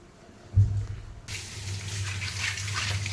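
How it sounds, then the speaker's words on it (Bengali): A tea strainer is rinsed under a running kitchen tap. After a quiet moment with a low bump, a steady broadband rush of water starts and continues to the end. "এখন চলছে এখানে ছাঁকনি ধোয়া"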